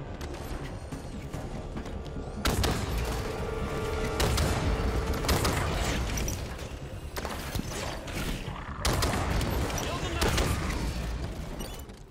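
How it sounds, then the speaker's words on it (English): An incineration cannon in the video game Halo 5: Guardians fires in a series of heavy booming blasts spaced a second or two apart, over dense mechanical noise. "Incineration cannon."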